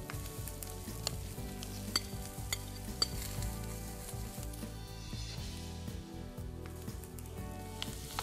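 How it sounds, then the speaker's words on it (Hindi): Mashed potatoes going into melted butter in a pan bring a soft, steady sizzle with repeated squishy stirring strokes and light utensil taps, fairly quiet and free of speech. "अब हम हमारे ये मैश पोटैटोस इसमें डाल देंगे"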